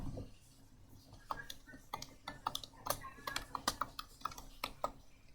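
Steady typing on a computer keyboard while coding a portfolio webpage, a run of quick, uneven clicking keystrokes close up and fairly quiet, with a faint voice in the background.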